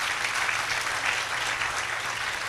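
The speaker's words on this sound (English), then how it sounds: "Please, a round of applause for her." Steady, dense applause from a lecture audience, with many hands clapping continuously at an even level with no voices breaking through.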